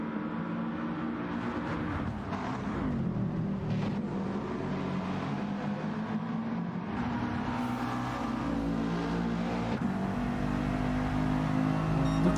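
A Mercedes GT4 race car in Gran Turismo 7 at Bathurst, its engine droning and revving steadily throughout, loud and continuous with rising and falling pitch as it works through the gears.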